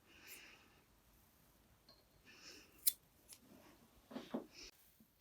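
Scissors snip thread ends off a macramé plant hanger, a few quiet, crisp cuts spread over several seconds with soft handling rustles between them.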